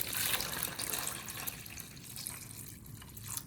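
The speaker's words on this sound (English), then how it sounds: "Pour in enough clean water to fully cover the sweet potatoes." Water splashing and pouring into a bowl of sweet potatoes, a loud gush at first that gradually softens into a lighter trickle, heard up close.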